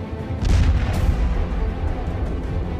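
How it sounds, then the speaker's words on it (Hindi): A Russian Kinzhal hypersonic missile strikes an ammunition depot in Ivano-Frankivsk, Ukraine, heard as a heavy, sustained rumbling boom with a few sharper bursts, loud and without speech. "हाइपरसोनिक किंजल मिसाइलों से यूक्रेन के इवानो में गोला बारूद डिपो पर हमला।"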